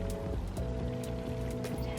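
Butter bubbles in a pan as it browns, a dense, continuous crackling sizzle like fine rain, fairly loud and close with steady tone, no talking.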